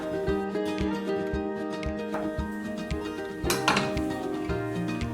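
A knife cuts mushrooms into chunks, giving a steady run of soft, evenly spaced chops against a board over a sustained tonal background, with a busier clatter of strokes near the end.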